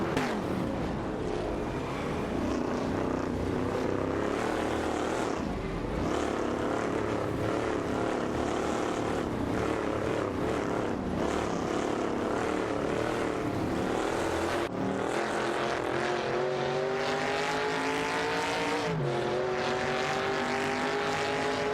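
Computer-driven AMC Matador and Mercury Cyclone race cars roar together through a video game race, a continuous loud engine drone with rising and falling pitch sweeps as they shift and jostle, steady and dense throughout.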